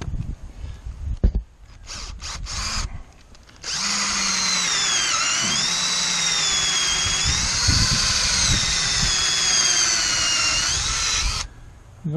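A corded electric drill bores holes in wooden fence boards, running loud and steady for about eight seconds after a few short bursts and clicks of handling.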